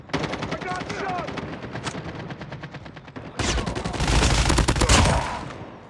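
Rapid automatic gunfire from the mobile shooter game Call of Duty Mobile, played on a night-mode map, rattles in dense bursts throughout. The firing grows louder and heavier near the end, and faint voices sound beneath it.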